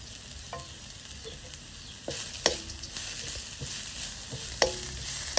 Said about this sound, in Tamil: கிளறுவோம்.